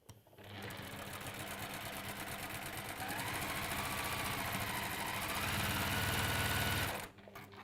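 A sewing machine stitches down the side of a quilting seam in one long, steady mechanical run of rapid needle hammering that stops abruptly near the end.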